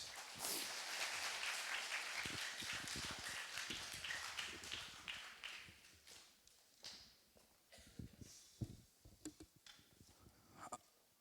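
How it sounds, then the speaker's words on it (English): Audience applause at a youth gathering, a dense burst of clapping for about six seconds that thins into scattered, uneven claps before fading out. "Let's give them a round of applause."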